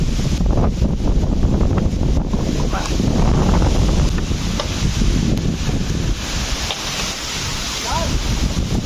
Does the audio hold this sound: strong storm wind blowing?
yes